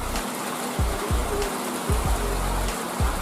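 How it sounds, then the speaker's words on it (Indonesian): Rain falls steadily on fish ponds, a dense even hiss of drops on water with occasional low thuds and bumps over it, close and continuous, no talk. "Hujan, bos."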